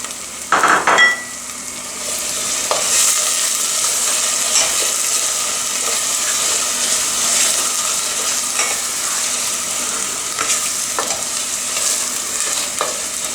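Onions frying in a pan with tomato paste stirred in for a pasta dish, a steady close sizzle with scraping spoon strokes and a few clanks, no voices.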